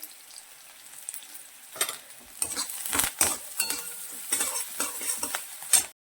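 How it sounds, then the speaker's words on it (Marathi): Vada pav potato filling is sautéed in a pan, with a spoon repeatedly scraping and tapping against the metal in uneven bursts over a soft background sizzle. "ब्राऊन होईपर्यंत अशा प्रकारे कम्प्लीट दोन ते चार मिनटं लागतील हे सारण परतून घ्यायला"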